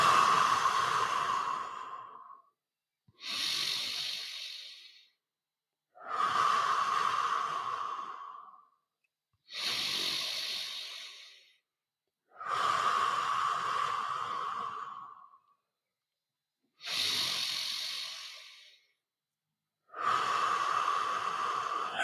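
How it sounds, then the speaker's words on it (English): Seven long, deep breaths in a breathwork exercise, each a loud airy rush lasting two to three seconds and separated by short silent gaps, close to the microphone and with no talking. "Round 2. 5 deep breath."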